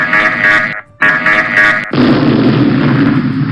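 Two short electronic buzzer-like tones ring out, then a loud bomb explosion sound effect booms and rumbles away as the penalty in a classroom PowerPoint game.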